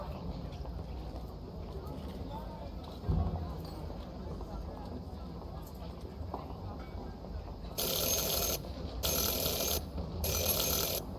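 A bell rung three times in quick succession, three bright bursts near the end after a stretch of quiet room noise.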